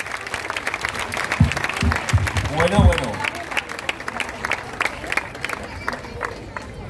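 Scattered applause from an outdoor audience at a live Sunday music show in Zaragoza's Parque Grande after an interview, moderate and uneven, with someone speaking briefly over it.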